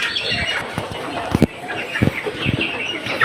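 Chickens clucking in a poultry setting, a run of short, close clucks and scratchy bursts with light background noise and no talk.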